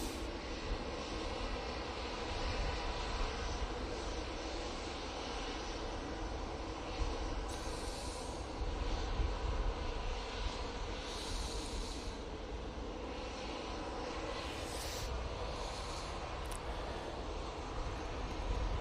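An Embraer jet aircraft at Manchester Airport gives a continuous, fairly distant engine roar that holds steady throughout, with no voices.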